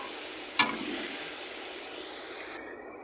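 A short burst of soybean chunks frying in oil, with a sharp crackle near the start, fading into a steady hiss before cutting off abruptly.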